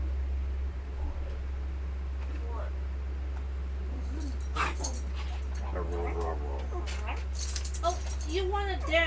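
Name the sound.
dog whimpering to be put down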